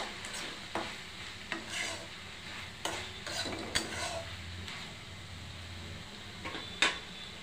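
A spoon stirs turmeric into a tomato-based capsicum curry, making repeated soft scrapes and taps against the pan over a faint sizzle, with one sharper clink near the end and no speech.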